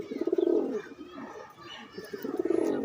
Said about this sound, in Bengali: এই কবুতরগুলো সব আমার ঘরের কবুতর, সব আমার ঘরের বাচ্চা।